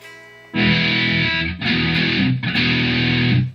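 A Squier '51 electric guitar played through a Line 6 amp's distortion: three sustained, heavily driven chords ring out one after another, loud and buzzing, each cut briefly before the next strum, with no voices.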